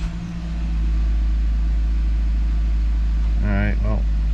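A 2014 Nissan Rogue with a recently replaced VVT oil solenoid settles into a loud, steady idle after starting, its low engine drone constant, with a brief voice rising over it near the end.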